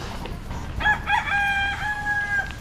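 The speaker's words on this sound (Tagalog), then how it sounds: "Ay may manok." A rooster crows once at moderate distance, a drawn-out cock-a-doodle-doo over a steady hum of outdoor background noise.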